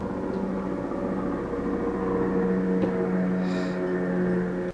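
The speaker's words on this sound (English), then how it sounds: "Sorry, a helicopter." A helicopter flies overhead, its steady low rotor drone holding loud and even for the whole span with no speech.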